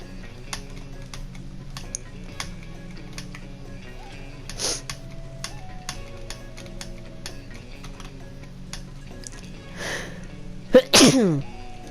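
A single sharp human sneeze bursts out near the end, close and loud, after a long stretch of faint ticking and clicking in the background of a survival game session.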